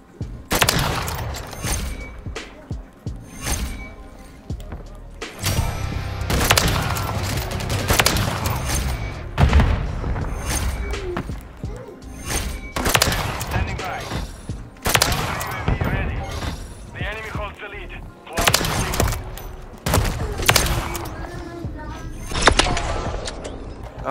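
Sniper rifle shots and other gunfire in a free-for-all Modern Warfare 3 match ring out repeatedly as loud, sharp cracks and bursts, mixed with game noise and a player's excited talk.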